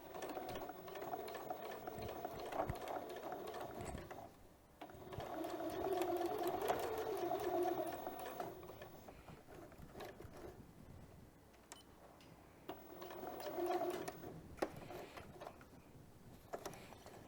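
A sewing machine double-stitches a fabric face mask, running in steady bursts with a short pause near four seconds and quieter stretches later, close and without talk.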